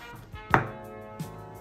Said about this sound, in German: Erstmal unsere Tomatoes würfeln